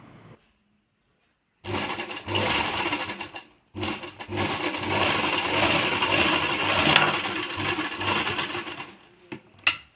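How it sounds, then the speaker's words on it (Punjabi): A sewing machine runs in two bursts as it stitches a seam, with a whirring, rapid mechanical buzz. A short pause comes between the bursts, and the machine stops near the end. "ਹੁਣ ਆਪਾਂ ਤੁਹਾਨੂੰ ਸੀਨ ਲਾ ਕੇ ਵੀ ਦਿਖਾ ਦਿੰਨੇ ਆ"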